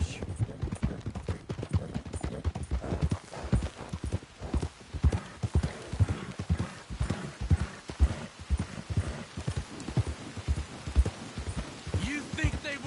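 Horse hooves clip-clop in a steady walking rhythm in Red Dead Redemption 2, close and continuous, with a brief whinny and speaking voices over the hoofbeats.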